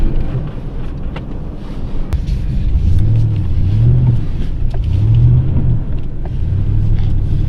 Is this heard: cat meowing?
no